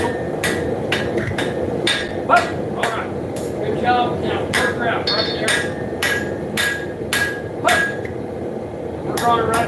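Sharp metallic hammer blows ring out in a steady, repeated rhythm forging a horseshoe, close and loud, while a voice talks underneath.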